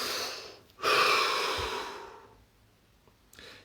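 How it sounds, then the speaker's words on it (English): A slow, deep breath drawn in and then released, close and breathy, with a long audible exhale tapering off and a faint short breath at the end. "Take a deep breath."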